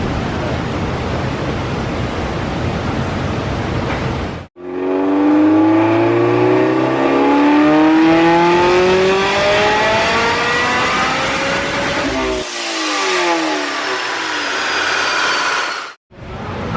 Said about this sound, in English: I'm revving it to 84.